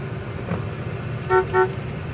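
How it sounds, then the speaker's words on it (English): Two short honks sound from the horn of a 1968 Chevrolet Impala with a 327 V8, close by over a quiet idling background. "Horn works, wipers work, gas gauge works."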